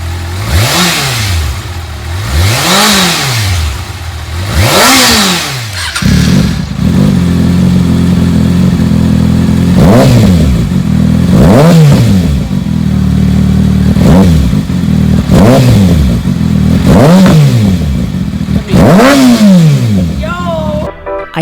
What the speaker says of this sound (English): Up next is the M4 Tech 1 carbon exhaust.